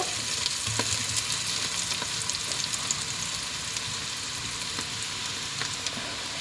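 Onions and curry leaves frying in a pan for Sri Lankan mutton curry, a steady soft sizzle and crackle with occasional pops, close and continuous without talk.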